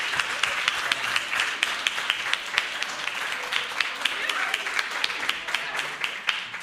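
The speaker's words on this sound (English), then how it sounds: "a round of applause again for the winners" Round of applause for the winners at a student nudgeathon conference: a room full of people clapping steadily, individual sharp claps standing out in a dense, continuous patter for several seconds.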